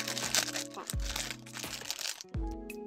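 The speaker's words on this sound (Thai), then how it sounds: "เดี๋ยวเราแกะกันเลยนะครับผมใช้กรรไกรนะครับตัด" Scissors snip open the crinkly plastic wrapper of a Campus snack pack holding a Spider-Man Spider-Verse tin box and cards, with rustling and crackling bursts close up under a voice and background tones.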